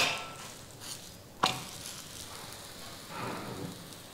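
Dhapate flatbread frying in a little oil on a pan over medium gas, a soft continuous crackling sizzle with a sharp clack partway through and fizzing swells later, close and without talk.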